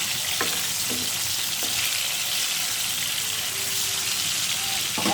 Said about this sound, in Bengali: আর এখানে মাছ ভাজ দিতেছি একদম গ্যাস লো